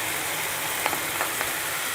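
Yogurt is added to masala frying in a pan for chicken gravy, with a steady close hiss of sizzling oil and a few faint clicks of a stirring utensil.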